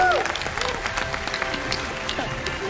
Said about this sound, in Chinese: 掌声有请陈一峰